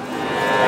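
A calf at a Satmail cattle market lets out one long, close, loud moo that rises slightly as it goes on, with no talk over it.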